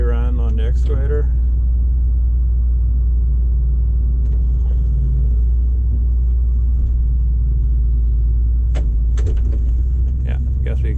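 A dump truck engine rumbles at idle in a snowstorm beside an excavator, a deep steady drone with brief knocks and a voice near the start.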